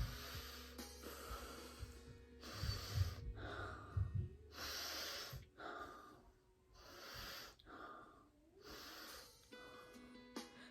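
Slow, deliberate breaths demonstrated as a calming exercise for children, with repeated loud inhales and exhales through the nose and mouth in a steady rhythm, some snort-like sniffs, close and alone without talk.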